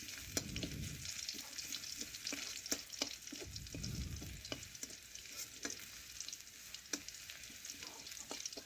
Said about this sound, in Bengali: একটু রসুন ভেজে নিচ্ছি এভাবে নাড়াচাড়া করে